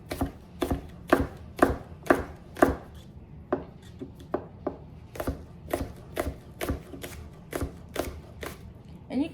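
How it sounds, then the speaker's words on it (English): Vegetables for deconstructed cabbage rolls are chopped on a cutting board, quick bursts of sharp knife taps in uneven runs with brief pauses, close and fairly quiet. "So I am going to just chop up my stuff here."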